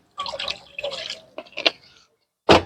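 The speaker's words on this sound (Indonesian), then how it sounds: "Kita beri sedikit air." Water poured into a cooking pot of spiced vegetable stew, splashing and trickling in short uneven bursts with pauses, ending in a brief louder splash.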